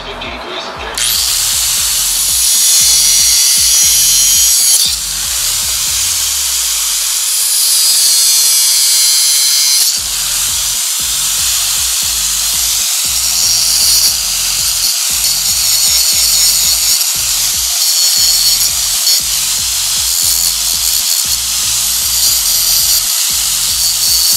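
Power tool cutting metal to shape a homemade high-pressure oil line removal tool, a loud continuous close whine lasting throughout, with short dips and restarts and no talking.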